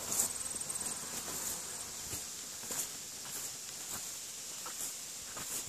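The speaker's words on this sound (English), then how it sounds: "Busy little bees." Honey bees buzz steadily around hives in a bee yard among blueberries in Caribou, Nova Scotia, forming a soft, continuous high drone with a few faint footsteps and rustles beneath.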